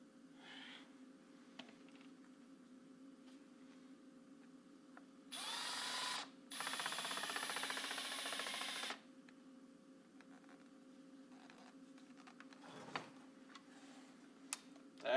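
Power drill in hammer mode inside a shop, a steady rattling burst of about four seconds that stops briefly and resumes, against quiet background ticks and hum, with no talking.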